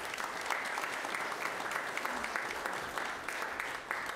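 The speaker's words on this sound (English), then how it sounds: "Let's give everybody a round of applause" A congregation at a traditional Easter Sunday worship service claps together in a church, a moderate, steady wash of many hands with slight swells, heard from some distance.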